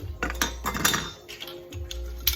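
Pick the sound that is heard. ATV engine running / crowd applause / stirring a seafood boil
stirring a seafood boil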